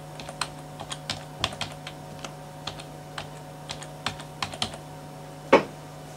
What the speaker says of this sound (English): I will type in a password.